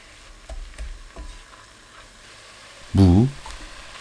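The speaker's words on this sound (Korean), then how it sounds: "냄비에 김치 넣고 중불로 1분 30초 볶아주세요." Kimchi stir-fries over medium heat in a pot, giving a faint sizzle with scattered light taps and one loud, brief scrape or clunk near the end.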